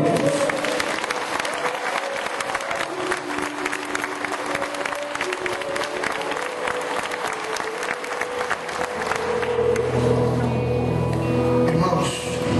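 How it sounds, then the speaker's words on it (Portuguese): A youth crowd at an evangelical church convention applauds loudly and continuously, with sustained clapping over crowd noise and music swelling underneath near the end. "Se você crê nisso, aplauda o reino da glória."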